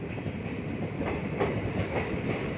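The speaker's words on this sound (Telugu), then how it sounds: "సో మన ట్రైన్ ఇప్పుడు ప్లాట్ఫామ్ నెంబర్ 2 నుంచి బయలుదేరుతోంది." Nagavali Express train 20810 pulling out of a platform, a steady loud rumble with rhythmic clickety-clack of wheels over rail joints, continuous and close, with no voices.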